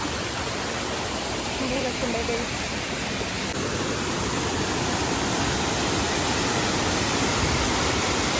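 A village waterfall gives off a dense, continuous roar of rushing water that stays steady and fairly loud throughout, and a voice is faintly audible early on.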